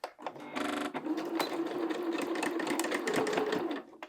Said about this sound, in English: Sew along the rounded edge, leaving the top open.